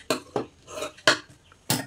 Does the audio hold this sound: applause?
no